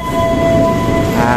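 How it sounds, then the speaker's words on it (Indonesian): A commuter train bound for Jakarta rumbles steadily and close by, a low continuous drone with a faint sustained tonal hum riding on top. "ini kereta buat ke Jakarta, kayak komuter lain tujuan Jakarta"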